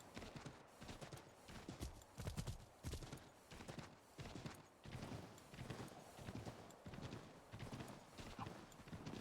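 Rhythmic clip-clop of a galloping horse's hooves in the game Assassin's Creed III, steady repeated beats that carry on alone throughout, with no talk.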